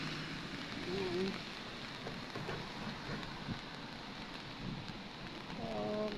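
Rain falls steadily over Yuen Shin Park in Hong Kong, a soft, even hiss throughout, with a voice briefly and faintly audible beneath it.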